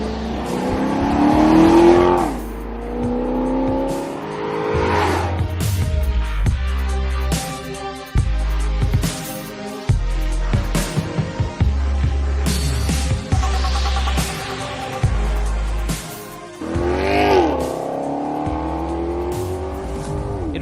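A Maserati GranTurismo MC Sportline with the Ferrari-derived 4.7-litre V8 shared with the MC Stradale revs hard and loud, with rising engine sweeps, sharp gear changes and repeated bursts of acceleration, and no talking.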